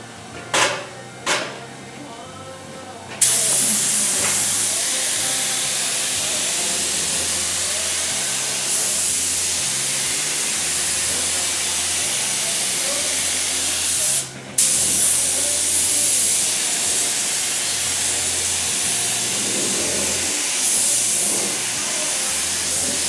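A paint spray gun sprays clear coat onto a car body during auto painting, a loud steady hiss that runs almost continuously after a few short test bursts, with one brief pause midway.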